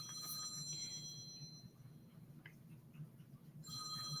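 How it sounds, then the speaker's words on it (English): Old-style telephone bell ringtone sounding from a mobile phone, a faint metallic ringing heard in a burst at the start and again at the end, with a quieter gap between. "I forgot I put a telephone ringer on his phone."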